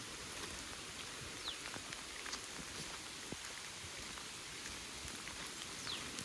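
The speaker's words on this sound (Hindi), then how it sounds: "वर्षा काफ़ी तेज हो चुकी है" Heavy rain falling at Ranthambore Fort, a steady, even hiss of downpour with occasional sharper drop impacts, moderately loud and continuous, with no voices.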